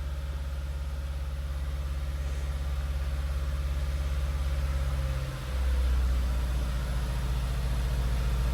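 A car engine idles steadily at lowered RPM during head gasket sealer testing, a loud, continuous low rumble with a brief dip and shift in pitch partway through, with no talking.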